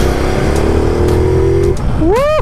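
Ducati Multistrada V2S motorcycle engine pulling hard at steady high revs past 4000 RPM on city roads, then dropping and climbing again in a quick rising sweep, loud and close with no talk.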